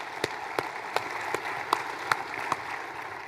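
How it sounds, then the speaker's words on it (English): A tech conference audience claps over a soft, steady wash of applause, with a few sharper, evenly spaced hand claps standing out close by. "Let's give him a round of applause,"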